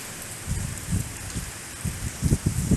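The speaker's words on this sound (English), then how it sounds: "We're just really taking a lot of big gust of wind now." Strong wind gusts roar during Hurricane Ian in Florida, a steady broadband rush with irregular low buffeting thumps against the microphone, loud and close, with no talking.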